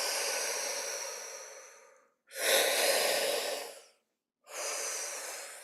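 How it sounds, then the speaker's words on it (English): Close, forceful breathing exercise: a long airy breath, a pause, then another strong rush of breath and a third after a brief silence, each loud and alone with no talk. "So it's 2 breaths in, 1 breath out."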